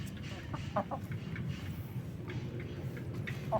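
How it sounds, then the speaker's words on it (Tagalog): Chickens cluck in short, scattered bursts over a steady low background hum, with no talking. "Ang gaganda na ng mga manok ko."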